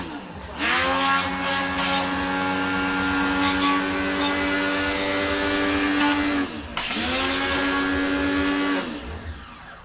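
Pressure washer spraying water to clean a motorcycle, a loud whining motor drone that starts, cuts out briefly and restarts, with a strong steady pitch and a hissing spray.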